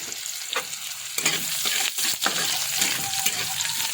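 Onions sautéing in a hot pan after garlic for a stir-fried vegetable dish with bean sprouts and tofu, a loud close sizzle with sharp stirring clacks and scrapes throughout.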